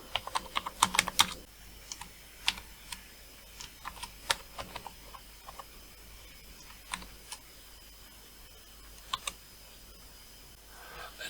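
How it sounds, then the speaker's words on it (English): Keystrokes on a computer keyboard attached to a homebuilt 6502 CreatiVision re-creation, in quick clustered bursts and single clicks with pauses between, close and fairly quiet over a low steady hum. "So again we can see the keyboard going."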